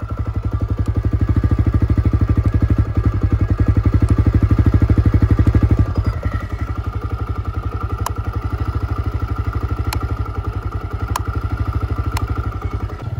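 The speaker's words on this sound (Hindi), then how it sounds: "इसका जो इंजन का साउंड है वो थोड़ा सा चेंज हो जाता है" A TVS Raider 125cc motorcycle engine idles steadily nearby in eco mode with a fast, even putter, its tone shifting slightly partway through, with faint clicks and ticks.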